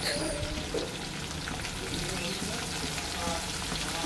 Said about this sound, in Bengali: চিংড়ি মাছটা হালকা ভাজলাম, বেশি ভাজলাম না